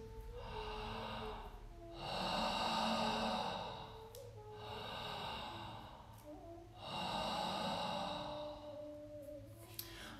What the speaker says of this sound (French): respiration Ujjayi, c'est comme si vous vouliez faire de la buée sur une vitre